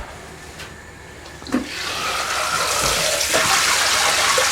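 Water from cooked rice poured out for draining, a steady rushing and splashing stream that starts after a soft clunk and continues loud and unbroken to the end.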